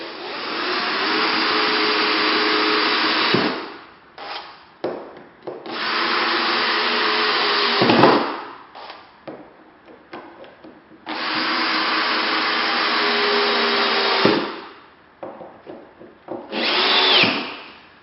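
A power drill drilling holes into a wall whirs in three long sustained bursts, loud and close, with short clatters and pauses between them.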